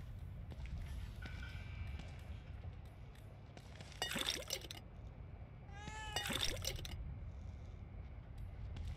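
A cat in The Evil Within 2 gives two distinct meows about two seconds apart, clear and fairly close over a low ambient game background.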